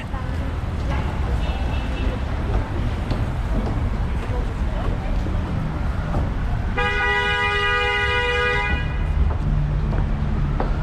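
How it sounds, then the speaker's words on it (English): Car horns honk amid busy New York City street traffic, with a long, loud horn blast standing out over the constant roar of passing vehicles. "Honk your horn in traffic, like it'll make the traffic go any faster, right?"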